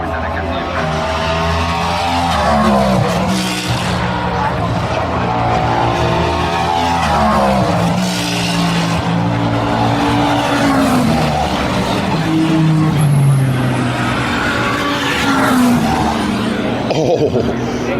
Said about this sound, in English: that Ferrari that went past third then, being a little ginger coming into Tetre Rouge